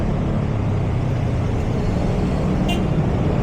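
Dense, loud road traffic roars continuously around a bicycle commuter near a roundabout, a steady broadband rumble of cars, buses and trucks with no pauses and no talk.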